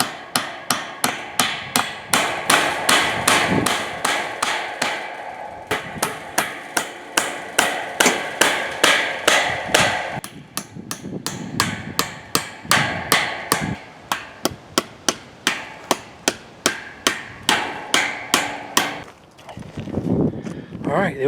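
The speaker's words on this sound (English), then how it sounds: "Now I got to staple this, and then once I staple that, I'll get that stapled." A hammer stapler drives staples into fencing in a long run of sharp, close, regular strikes, with short pauses between bursts.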